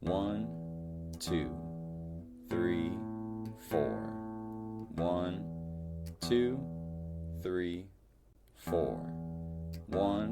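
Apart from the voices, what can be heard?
guitar playing bass line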